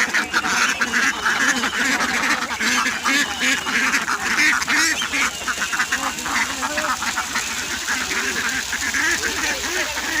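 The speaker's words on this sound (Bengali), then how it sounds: "দেখুন কত সুন্দর লাগছে হাঁসগুলিকে" A flock of domestic ducks just let out, quacking loudly and continuously in an overlapping chorus, close by and outdoors.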